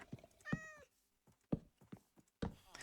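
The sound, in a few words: cat meowing in Minecraft video game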